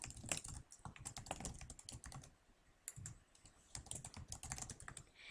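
Rapid, uneven keystrokes on a computer keyboard as a username and password are entered, close and clear, pausing briefly near the middle before resuming, with no talking.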